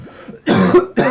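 A person coughs, a soft lead-in followed by two harsh, close bursts, the second shorter, with no talking.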